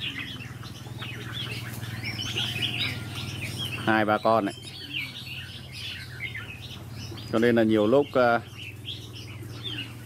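Young red-whiskered bulbuls in a flock close overhead give bright chirps and tweets, with two louder bursts of calls standing out over a steady low hum while someone talks.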